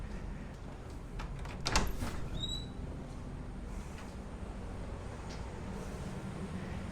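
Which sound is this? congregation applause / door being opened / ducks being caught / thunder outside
door being opened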